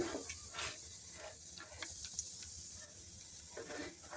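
Cumin and mustard seeds crackle and sizzle faintly in hot oil, with scattered pops and a steady soft hiss, quiet and without talk.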